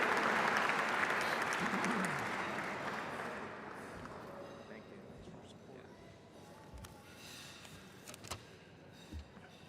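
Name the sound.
audience applause for Jack Connolly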